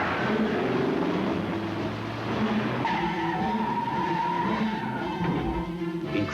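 A Chrysler LeBaron GTS and a BMW 528e running a high-performance duel, with a continuous loud tire squeal and engine roar throughout, shifting in pitch as the cars skid and accelerate, no voices.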